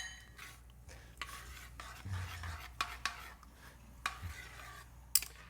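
Quinoa and chicken stock stirred in a Dutch oven, soft scraping and occasional clinks of a utensil against the pot, quiet and close with no talking.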